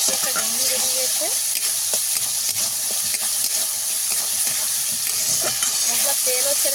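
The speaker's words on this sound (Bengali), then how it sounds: "ভালোভাবে মশলা আমি কষিয়ে নিয়েছি।" Spice paste for potol posto frying in oil in a pan, a steady bright sizzle and hiss with occasional stirring scrapes and clinks, close and continuous.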